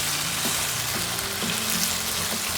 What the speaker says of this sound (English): And then we'll get onto the frying.